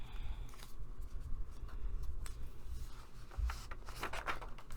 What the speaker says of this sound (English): So just take your scissors, whatever, cut it out.